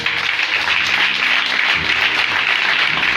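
A church congregation at a Sunday service claps and cheers for one of its women members, dense steady applause filling the room, loud and continuous from start to finish.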